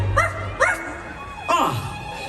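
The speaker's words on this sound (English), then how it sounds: "Where is that dog?" A dog gives a few short yips and barks as part of the soundtrack of a Halloween fireworks show at Mickey's Not-So-Scary Halloween Party, three quick bursts over a low rumble, close and fairly clear.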